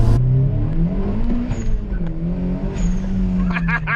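Turbocharged Mazda MX5 accelerating hard, the engine drone rising and wavering steadily from inside the cabin, loud and continuous, with a short burst of speech at the end.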